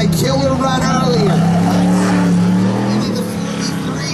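A 1947 Chevy truck races through an autocross course, its engine revving hard and loud close by while a commentator talks over it.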